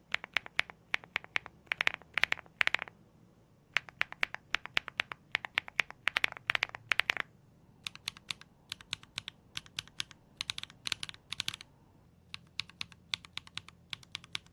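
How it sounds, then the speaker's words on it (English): Mechanical keyboard typing in full and boundless modes, quick bursts of crisp clicky keystrokes separated by short pauses, close and isolated with nothing else audible. "First, listen to the typing sound comparison between the full and boundless modes."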